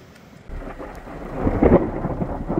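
A rainstorm moves in over the mountains at the foot of the Shkhara glacier in Georgia, with rolling thunder building to a deep rumble amid the steady hiss of rain.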